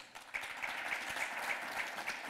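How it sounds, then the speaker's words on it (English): Applause from a crowd at a political gathering, a short burst of steady clapping with a few sharp whistles or cheers cutting through. "Please clap for them."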